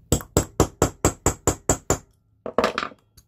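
Eight sharp metallic hammer taps on a centre punch against metal strike in a steady rhythm, followed by a brief pause and a few quicker, scattered knocks.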